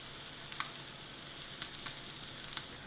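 Burgers frying in a pan give a steady, fairly quiet sizzle with a few soft pops and crackles throughout.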